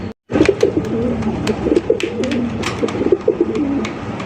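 Fancy pigeons for sale coo steadily in soft, rolling throaty phrases, close by, with a few sharp taps and rustles scattered through.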